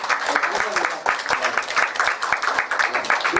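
A church congregation at a Sunday service gives a round of encouraging applause, dense clapping going on steadily and fairly close throughout, with voices mixed in beneath.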